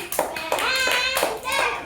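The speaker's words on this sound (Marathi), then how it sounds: "एकदा जोरात टाळ्या द्या यांच्यासाठी" Schoolchildren in a classroom clap loudly in a quick rhythmic burst of several beats, mixed with children's voices calling out alongside the claps.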